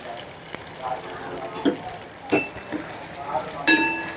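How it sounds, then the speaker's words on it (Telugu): Sliced onions and dried red chillies fry in a pan for Andhra-style bottle gourd curry, a soft sizzle under scattered metallic clinks and scrapes of a stirring spoon, with some talking nearby. "ఉల్లిపాయలు సగం వేగిపోయినాయండి. ఇలా వేగితే చాలు."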